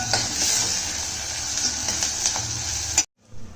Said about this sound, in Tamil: இன்னும் வெங்காயம் வதங்கணும்ல வதங்கட்டும்